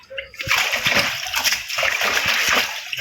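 Vegetables being washed in water, including mushrooms such as enoki, with continuous close splashing and sloshing for a few seconds.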